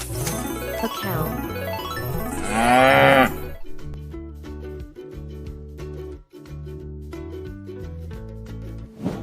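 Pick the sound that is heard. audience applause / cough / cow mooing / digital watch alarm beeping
cow mooing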